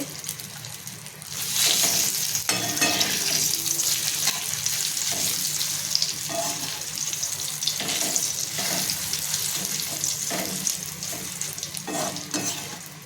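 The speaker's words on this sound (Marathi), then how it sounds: "मी तेजपत्ता ह्याला तमालपत्रासुद्धा बोलतात हे मी टाकून हे सुद्धा मी तळून घेते" Bay leaves and whole spices frying in hot oil for homemade goda masala: a steady, close, bright sizzle lasting throughout, with occasional stirring clicks and no talking.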